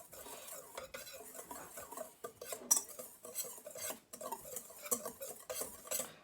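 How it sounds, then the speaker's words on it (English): A whisk scrapes and clinks steadily around a bowl of cornmeal pancake batter made with water, a busy, continuous rhythmic stirring with brief pauses, close and fairly quiet, with no voices. "And I'm going to just whisk it all together."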